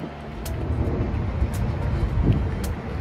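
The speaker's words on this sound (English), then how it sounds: "I'm guessing you could probably hear some highway noise on this video right now" Highway traffic heard from a campground makes a steady low roar of passing vehicles, moderately loud and continuous, with faint higher hisses from cars going by and no talk.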